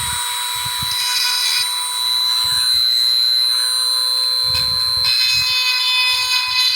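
A Dremel rotary tool sharpening a chainsaw chain whines at a high steady pitch, close and loud throughout, with faint low bumps as the bit touches the teeth.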